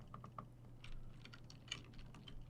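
A few light, quick computer keyboard navigation key presses tap out near and faint over a low steady hum, with no talking.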